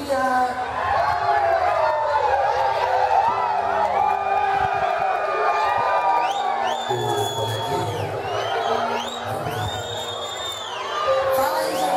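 A lively crowd at an MC Jair da Rocha show in Júlio de Castilhos, RS, cheers, whoops and screams continuously and loudly, with shrill whistles and voices rising over the dense roar.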